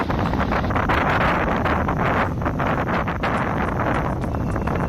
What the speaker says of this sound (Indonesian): tapi mohon maaf, anginnya suaranya kenceng